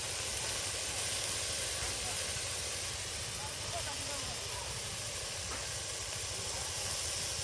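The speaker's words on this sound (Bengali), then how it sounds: "এই যে এখন পেঁয়াজ কুচি, তার সাথে আছে যে মরিচ কুচি একসাথে তেলে দিয়ে দিয়ে দেওয়া হচ্ছে" Chopped onion and chili frying in hot oil in a home kitchen, a steady broad sizzle running throughout at a moderate level.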